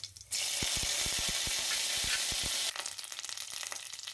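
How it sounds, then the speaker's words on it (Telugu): Black gram dal, chana dal, mustard seeds and curry leaves hit hot oil in a pan for a brinjal curry tempering, bursting into a loud, crackling sizzle with sharp seed pops, then settling into a quieter, rougher fry. "మినపప్పు చిన్నపప్పు ఎగురుపాయలు ఆవాలు ఈ పచ్చి వేయించాలి ఇప్పుడు కరివేపాకు వేయాలి"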